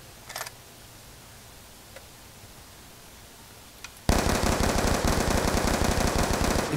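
Gunfire in the video game Black Ops 2: a few faint clicks and shots at first, then a sudden loud sustained burst of rapid automatic fire that continues to the end.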